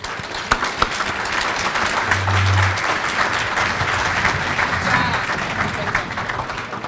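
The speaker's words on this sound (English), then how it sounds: "Round of applause for our guests." Meeting attendees give a round of applause for guests at a club luncheon, a dense, loud wash of clapping from a roomful of people, with a murmur of voices mixed in throughout.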